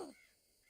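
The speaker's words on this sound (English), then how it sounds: "Ah, Brother Raven is calling me." A common raven calls once in the desert canyon country: a single short, harsh caw at the very start, then near silence.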